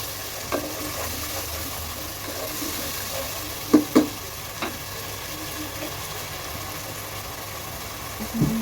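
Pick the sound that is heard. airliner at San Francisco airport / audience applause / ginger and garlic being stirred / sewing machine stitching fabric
ginger and garlic being stirred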